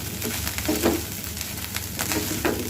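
Dried shrimp fry in a pan for a spicy peanut shrimp bhorta, giving a steady, close sizzle with soft stirring swells and no talk.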